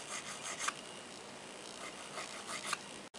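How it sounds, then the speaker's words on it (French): A nail file rubbing straight along a gel nail, a soft, close, rhythmic rasping in short repeated strokes, fairly quiet, with no voices. "Pour ça, on lime de façon droite, le long des parallèles de l'ongle naturel."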